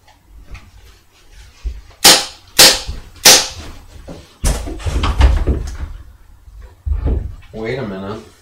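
Three sharp, loud gunshot-like cracks ring out in quick succession at a man in a shirt, followed by a heavier bang, with someone talking before and after the shots.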